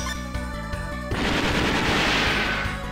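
Gunfire from the Cross Shot skill attack in the video game SaGa Frontier erupts as a loud, dense burst of rapid shots, cutting in partway through over the game's music and sustaining to the end.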